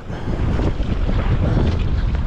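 Strong wind roars against a fishing boat at sea, a loud, steady gusty rush buffeting the microphone, with no voices.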